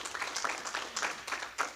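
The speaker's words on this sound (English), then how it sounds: "I'm sure you need to give yourself a round of applause" Faint, scattered clapping from a convention audience of actuaries, soft and distant, with uneven bursts across a brief stretch.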